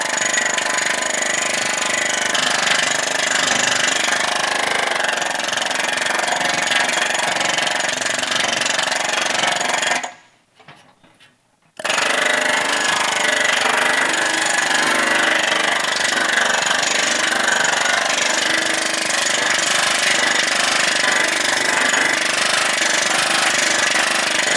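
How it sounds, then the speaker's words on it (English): A pneumatic air hammer planishes shrunk sheet metal smooth, hammering in a loud, continuous rattle that stops for about two seconds partway through, then resumes just as steadily. "we'll go to the air hammer and we can smooth that all out"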